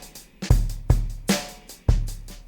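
A drum loop in a straight eighth-note groove with no swing: punchy kick and snare hits with bright cymbal wash fall in an even, steady pattern, loud and close.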